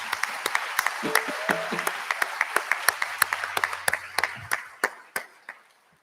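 Applause at a town hall ceremony held at West Point, a fairly sparse, quiet round of separate claps with distinct sharp hits, thinning out toward the end, with a faint low tone and murmur underneath.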